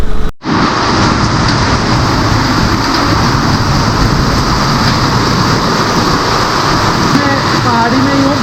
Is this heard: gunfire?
no